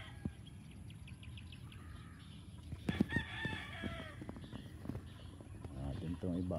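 Roosters on a gamefowl farm crow and cluck in scattered bursts, some near and some farther off, while a person speaks over them.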